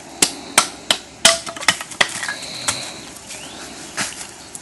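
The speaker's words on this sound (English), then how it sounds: "If it's all twisty, you don't want to take off too much, you want to carve it down" A knife carving down a wooden spindle for survival fire-making, heard as a run of sharp, irregular cutting strikes and chops close by, loudest early on and then thinning into lighter scrapes.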